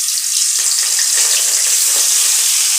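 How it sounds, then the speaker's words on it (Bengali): Rohu fish pieces fry in hot oil in a home kitchen, giving a loud, dense, continuous sizzle that stays even throughout. "এখন আমি মাছগুলো একে একে ভেজে উঠিয়ে নেব।"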